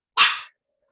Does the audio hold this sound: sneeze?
no